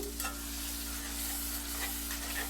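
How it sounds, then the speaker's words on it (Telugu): Onions and tomatoes frying in a pan for a fresh fenugreek-leaf tomato curry, with a steady close sizzle and intermittent scraping stirs throughout, alone with no talk. "ఇదిగోండి ఇలా ఈ ఉల్లిగడ్డలు ఈ టమాటాలు బాగా ఫ్రై అవ్వాలి"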